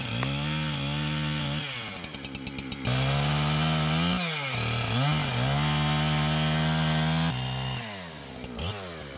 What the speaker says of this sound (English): I have to take my chainsaw and just kind of take the bark off